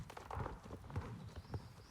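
Hooves of a heavy Black Forest horse clip-clop steadily in a racing video game, a run of evenly spaced, fairly close thuds with a light background bed.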